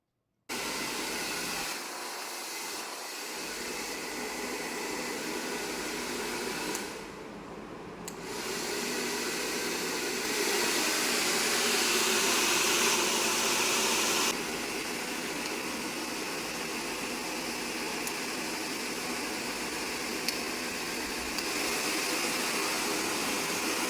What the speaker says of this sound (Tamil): ஸோ வந்து இப்படி தான் வந்து நம்மளோட ஹேர் ட்ரையர் வந்து ஒர்க் ஆகும்.